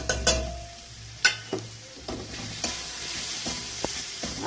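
Prawn curry masala is stirred and sautéed in oil in a pan, giving a soft continuous sizzle broken by scraping spatula strokes at irregular intervals.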